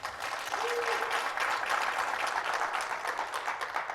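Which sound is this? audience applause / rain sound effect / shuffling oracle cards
audience applause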